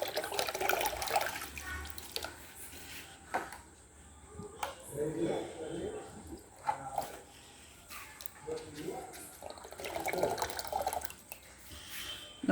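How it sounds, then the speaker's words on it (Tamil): Almond leaf water pours from a bottle into a fish breeding tank, an uneven splashing and trickling stream that comes in surges with brief pauses, while a voice speaks intermittently over it. "ஒரு வாட்டர் பாட்டில் கணக்கில் ஆல்மண்ட் லீஃப் வாட்டர் கொஞ்சமாக ஊற்றிக்கலாம்."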